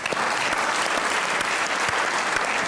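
Steady, close applause from an audience at a live poetry gathering in America welcoming the Pakistani comedian-poet Suleman Gillani on stage. The clapping is thick and even, with no voices over it.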